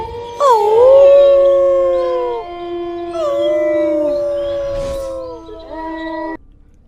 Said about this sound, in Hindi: कुत्ते और भेड़िए की आवाज आ रही थी।